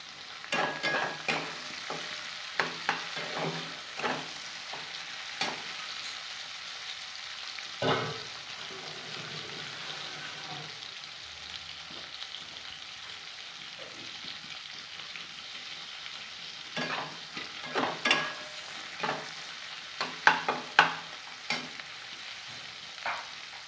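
Four tomatoes with green chilies frying in a pan for a cauliflower and curd katla fish dish, with a steady low sizzle and repeated scraping stir strokes, some sharper clatters near the end, no voices.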